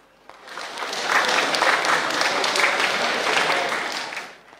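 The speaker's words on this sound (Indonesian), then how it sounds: "Tepuk tangan dong." An auditorium audience of university students bursts into applause at a guest lecture, the clapping swelling quickly, holding dense and steady for several seconds, then tapering off.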